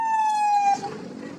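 A police car siren on the Marilaque road sounds one loud, steady electronic tone that cuts off abruptly, leaving road and traffic noise.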